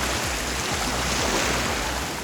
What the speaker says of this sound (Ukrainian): Ось невеличкий пляж, ось камні, ось океан.